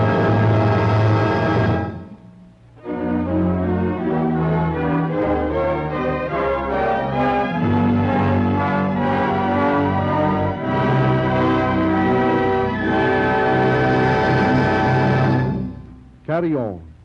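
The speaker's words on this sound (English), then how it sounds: "Carry On, from Bizet's La Lésienne suite, fills the air with the mellow tones of orchestral bells" Orchestral bells ring mellow tones in Carry On from Bizet's suite, played by a radio studio orchestra under Frank Black, a full ensemble sounding loud and sustained with a brief pause near the start and end.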